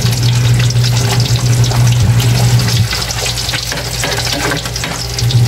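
Six pieces of dalagang bukid fish fry in a pan of hot oil, a loud, dense, continuous sizzle with bubbling that holds steady throughout.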